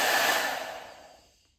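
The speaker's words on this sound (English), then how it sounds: "We're gonna talk about how I'm about to blow dry my hair." Hair dryer fitted with a diffuser blowing on high while drying curly hair, a loud, close airy whoosh that fades away and stops within about a second and a half.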